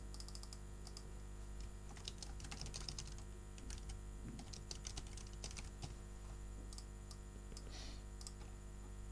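Text being typed on a computer keyboard, a quick, irregular patter of light key clicks over a low steady hum, close and fairly soft, with no one talking.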